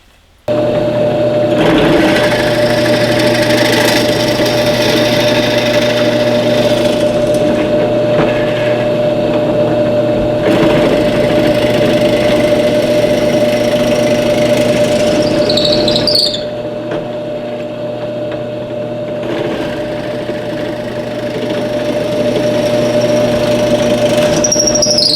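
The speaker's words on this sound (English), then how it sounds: "switch this out for a 3/8 inch bit to drill the through holes for the lag bolts." A drill with a 3/8 inch bit boring through holes for lag bolts in a 2x4 and conduit lumber rack, a steady loud whine in three long sustained runs with short pauses between.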